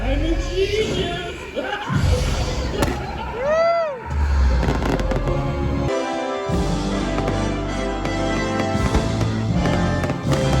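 Fireworks burst during a nighttime spectacular at Universal Orlando, with repeated booms and crackles, a rising whistle, and music over the crowd, while people talk nearby.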